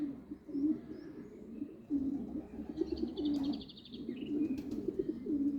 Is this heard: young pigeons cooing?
yes